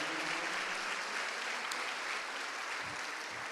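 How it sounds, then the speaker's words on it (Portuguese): Congregation applauding in a church service, a steady wash of clapping held at an even level throughout with no voices on top. "Aplaude a Deus bem forte por isso"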